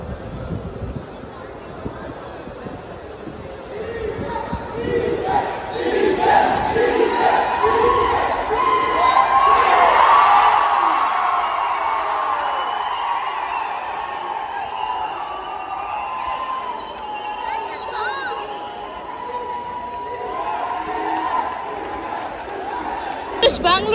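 Large crowd cheering at a cricket match in Bangalore, a broad sustained roar with shouts and whoops swelling in the middle and staying loud throughout, with voices chanting nearby.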